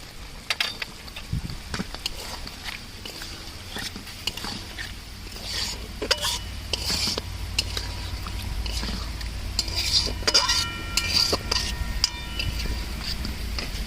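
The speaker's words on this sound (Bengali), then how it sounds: "এবার এটাকে একটু ভালো করে কষিয়ে নেব" Spiced prawn biryani masala with cumin and coriander powder is stirred and sautéed in a pan, with repeated metallic scrapes and clinks of a spoon against the pan over a steady low sizzle.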